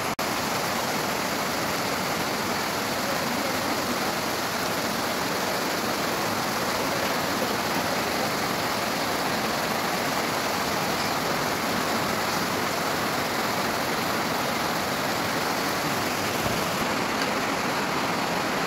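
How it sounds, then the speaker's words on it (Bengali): Rain falling steadily in a continuous, dense wash of noise that stays even in loudness from start to finish, with no voices. "বন্ধুরা কি বৃষ্টি নামছে, চলো দেখাই।"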